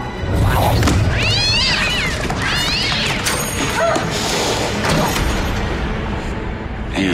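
A cat yowls loudly in a scene from a TV drama, two drawn-out wavering meows close by over heavy background noise and crashing sounds.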